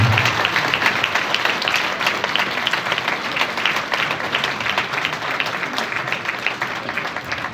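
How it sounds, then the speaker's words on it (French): A concert audience at a New Year concert in Hayange applauds the Philharmonie musicians with loud, sustained, dense clapping from a full hall that holds steady throughout. "J'aimerais vraiment, messieurs, dames, qu'on applaudisse très fort les musiciens de la Philharmonie"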